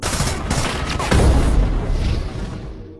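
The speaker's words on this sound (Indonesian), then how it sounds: "Ketika di atas gedung, Darius diberondong ribuan peluru hingga terjadi ledakan." A film-scene gunfire barrage on a rooftop, dense rapid shots roaring loudly before an explosion bursts and its rumble fades away.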